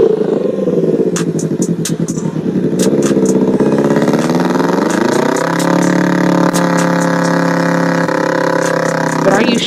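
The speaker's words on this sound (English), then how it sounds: "Kind of like her Can-Am Riker." Engine of a Can-Am Ryker three-wheel motorcycle running loud and close, a steady droning tone that shifts pitch partway through as it revs, with sharp clicks and taps over it.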